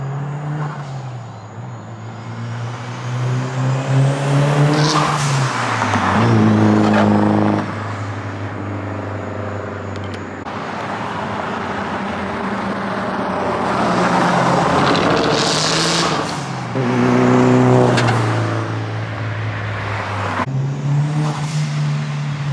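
A turbocharged Mitsubishi Lancer Evolution VIII with titanium intercooler piping and a Tial blow-off valve drones and shifts through gears, rising and falling in pitch as it accelerates and passes, with a hissing whoosh between pulls.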